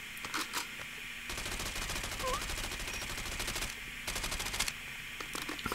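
AS VAL suppressed rifle in Call of Duty Mobile, rapid automatic bursts of crisp, muted shots in steady rhythm, with short pauses between strings of fire.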